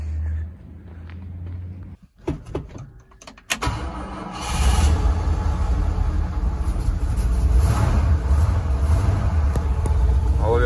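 An old farm truck cranks with a few short, uneven bursts, then its engine catches and runs loud and close, holding a rough, steady revving roar to the end.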